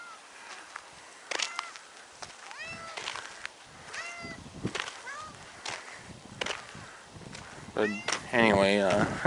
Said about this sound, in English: sorry about the cat begging there in the background here